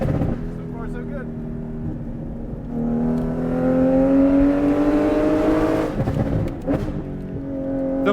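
A cup car with a crackle-tuned exhaust on a racetrack gives a loud, rising engine drone that climbs through the revs, with sharp crackles and pops breaking through as the throttle lifts, all up close.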